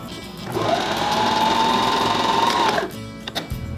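Sewing machine stitching quilting lines across a reversible table runner, a steady continuous hum with a rising whine that runs for nearly three seconds, then stops abruptly, leaving light handling clicks.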